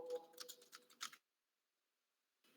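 Quick clicks of typing on a computer keyboard patter close by for about a second, then stop. A short quiet gap follows, then a brief resumption near the end.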